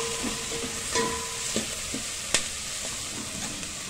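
Chopped onions and green chilies fry with salt in a pan for sambar, a continuous close sizzle with light stirring scrapes and one sharper clink partway through.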